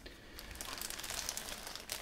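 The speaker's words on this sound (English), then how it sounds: "Then we have a plastic bag here." A plastic bag from a 1/350 scale model kit box of the USS Essex LHD-2 crinkles continuously up close, a soft crackling rustle with no speech.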